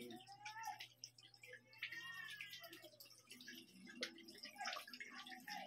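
A Samsung WA75CG4240BY top-load washing machine drains its water with a soft, steady trickle and gurgle. A low hum runs underneath, and the whole sound stays faint and close.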